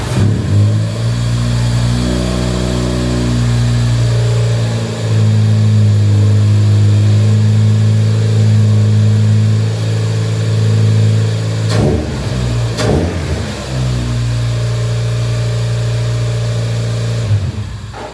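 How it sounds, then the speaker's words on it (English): A Toyota Starlet engine, just after an oil change, runs loud and close with a steady harmonic drone. The revs rise and fall in a couple of swells before it settles back to idle. "I then wanted to start up the car just to make sure it hadn't miraculously died over the time of changing the oil."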